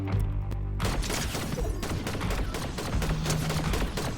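Gunfire in the video game Fortnite, rapid bursts of shots crackling in quick succession, fairly loud and dense throughout.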